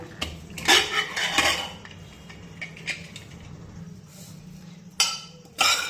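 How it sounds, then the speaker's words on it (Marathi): The lid of a cooled pressure cooker holding cooked dal and dill greens is lifted off, with sharp metal clinks and clatters of pot and lid, a few close knocks spaced out over quieter handling. "आता या कुकरचं आपण झाकण काढूया"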